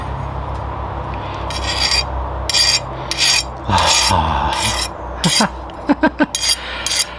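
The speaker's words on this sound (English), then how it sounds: "It's file time." A hand file scrapes across a hardened steel mushroom knife blade in a series of short rasping strokes over a low background hum, with a few sharp clinks near the end.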